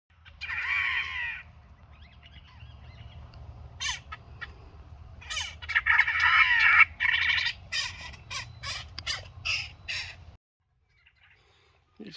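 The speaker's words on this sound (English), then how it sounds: "These birds aren't happy with my presence." Agitated birds call harshly near malleefowl nests in a conservation park, with a burst of squawks and a run of loud, rapid, irregular cries close by, ending in near silence.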